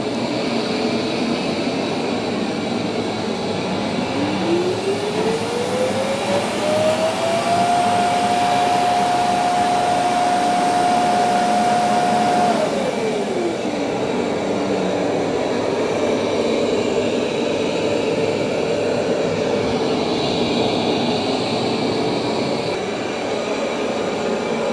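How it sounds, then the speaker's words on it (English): A Roborock S8 Pro Ultra robot vacuum cleans dirt and debris off a floor with a steady, loud suction roar and a motor tone that rises, holds, then drops back down, heard alone with no talk. "the Roborock is picking up all that little dirt and debris"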